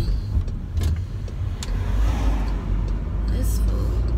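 A car driving on a busy road, a steady low engine and road rumble heard from inside the cabin, with a few clicks and rustles.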